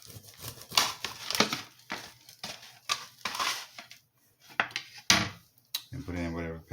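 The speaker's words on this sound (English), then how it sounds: "Then I like to cut mine in half." A knife cuts a rack of applewood baby back ribs in half, giving loud close scraping, crunching and clattering against the pan, followed by a short stretch of voice at the end.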